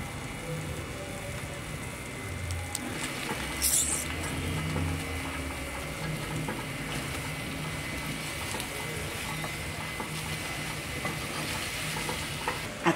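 Eggs cooking with nopales in a frying pan, sizzling steadily throughout with scraping stir sounds and a brief louder clatter partway through, close and alone with no talking.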